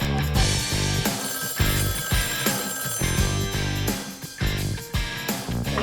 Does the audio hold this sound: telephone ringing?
yes